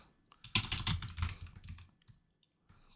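Rapid, close keystrokes on a computer keyboard while entering text in an Excel spreadsheet, a dense flurry of clicks lasting about a second, then a few scattered taps amid near silence.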